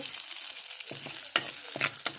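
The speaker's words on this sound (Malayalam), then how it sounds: "ഇനി നമുക്ക് ഇതിലേക്ക് കറിവേപ്പില ഇടാം" Curry leaves drop into hot oil where mustard seeds have popped and fenugreek has darkened, setting off a bright, steady sizzle with crackling bursts and a few stirring scrapes, close and fairly loud, with no talk.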